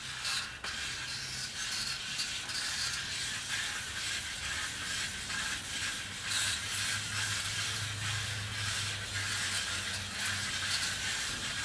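A long tape measure is cranked back in, a steady fast ratcheting whir with a fine mechanical clicking texture that continues throughout at close range.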